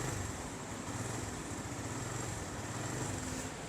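A Suzuki GS150 motorcycle's engine runs at a steady idle, with an even low throb and broadband hiss held constant from start to finish and no talking.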